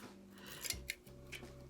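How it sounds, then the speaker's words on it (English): Scissors snip through a long length of fishing line while a fern is being mounted, giving two or three quick, faint metallic cuts and rasps close by, with no talking. "We're going to take our fishing line and we're going to just cut a really long piece off."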